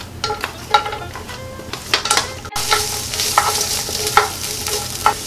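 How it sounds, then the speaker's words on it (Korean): Chopped onions stir-fried in a spoonful of oil in a pan, loud close sizzling with quick spatula scrapes and taps against the pan, a burst of stirring midway, no voices. "팬에 기름을 한 스푼 정도만 둘러주세요. 그리고 잘라놓은 양파 먼저 볶아주겠어요."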